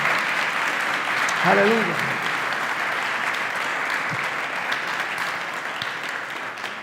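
A church congregation applauds steadily and loudly throughout, while a voice briefly calls out over the clapping.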